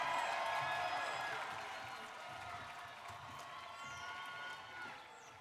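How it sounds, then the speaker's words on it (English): Applause rises from the crowd at a Harvard commencement ceremony as a graduate's name is called, a faint, distant wash of clapping with a few cheers that gradually softens. "Huge round of applause."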